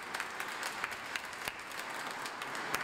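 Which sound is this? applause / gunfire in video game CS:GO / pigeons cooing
applause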